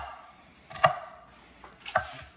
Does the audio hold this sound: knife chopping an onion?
yes